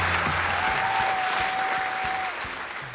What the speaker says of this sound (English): Now that the clapping has finally settled